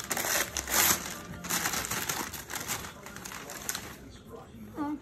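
A gift package bound in heavy tape is torn open, with rough crinkling, ripping and crushing noises in uneven bursts, mixed with talk through most of the clip.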